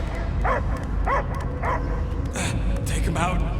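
A dog barks and yips in a run of short, sharp bursts in a Marvel's Guardians of the Galaxy video game scene, with music and effects underneath and no talk in between.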